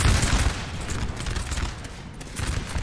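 Musket volleys crackle in the Napoleonic battle video game Napoleon: Total War, a dense, rolling fusillade of overlapping shots heard up close and loud throughout.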